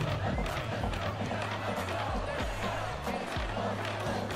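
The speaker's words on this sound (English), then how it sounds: "The crowd is going nuts for this" Basketball arena crowd in the video game NBA 2K16, a steady roar of cheering with sneaker squeaks and on-court commentary-like voices mixed in, loud and continuous.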